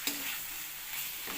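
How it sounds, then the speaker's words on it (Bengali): Fried potatoes and spices stir-fried together in a pan for a Bengali paneer masala, giving a steady close sizzle with scraping stirs near the start and end. "আলু আর মশলা একসাথে কষে নেব।"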